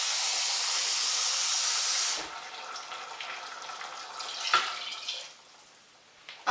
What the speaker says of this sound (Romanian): Și adăugăm apă.